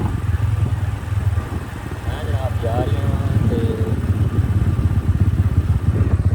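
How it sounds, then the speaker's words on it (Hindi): A motorcycle ridden through deep sand on a rough village track, its engine chugging steadily up close while someone talks over it. "मेरे को मोटरसाइकिल भी एक हाथ नाल नहीं चला सकना क्योंकि रेत बड़ी ज़्यादा है"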